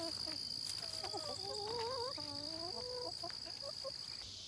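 Chickens cluck and croon softly in a garden, several short rising calls overlapping, faint against a steady high insect buzz from crickets.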